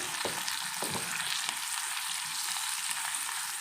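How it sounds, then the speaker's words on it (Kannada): Beans, carrot and onions frying in a pan for palya, a steady, fairly quiet hiss of sizzling with a couple of soft stirring knocks near the start, alone and without talk. "ಚೆನ್ನಾಗಿ ಫ್ರೈ ಮಾಡಿಕೊಂಡು ಸ್ವಲ್ಪ ಮುಚ್ಚಿಟ್ಕೊಂಡು ಫ್ರೈ ಮಾಡ್ಕೊಳ್ಳೋಣ ಈರುಳ್ಳಿ ಎಲ್ಲ ಬೇಗ ಫ್ರೈ ಆಗುತ್ತೆ"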